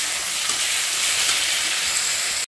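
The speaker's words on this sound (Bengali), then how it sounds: "এবার এগুলো একটু ভালো করে নাড়িয়ে নেব, ভালো করে মশলাটা কষিয়ে নিতে হবে।" Ginger, green chili, garlic and onion paste frying and being stirred in a pan, a dense continuous hiss of sizzling, close and steady, cutting off abruptly at the end.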